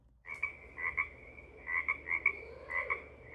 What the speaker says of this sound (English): That's a sound a frog makes.